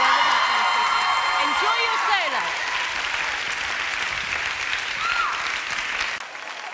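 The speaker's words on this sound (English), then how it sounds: "Let's give him a big round of applause." Dense applause with whoops and cheers from an audience greeting a dancer named Rob on a televised dance competition. The clapping stays loud and steady, then eases near the end, with a presenter's voice talking over it.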